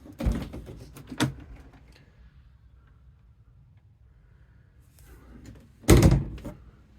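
A shower stall door on a 1976 Viking 40 ft sportfisher is handled, giving two sharp knocks early on, a quiet stretch, and then a louder thump as it closes, heard close up.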